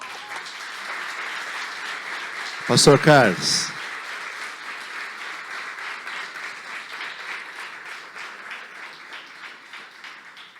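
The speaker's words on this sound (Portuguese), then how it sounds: "Aplauda o Senhor." Church congregation applauding at a Brazilian Pentecostal service, sustained crowd clapping through the whole stretch, with someone speaking briefly over it near the start.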